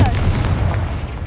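A Confringo blast spell in the video game Hogwarts Legacy, heard as a short, loud, dense burst with heavy low rumble, close and filling the whole moment.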